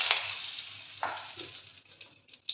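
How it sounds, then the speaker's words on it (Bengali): Tender brinjal fries in hot oil in a wok, a close, bright crackling sizzle with small pops and light stirring clicks. "বেগুনটা আগে ভেজে নিই।"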